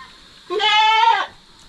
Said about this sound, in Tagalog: Malaking kambing din to pag nasa insaktong edad.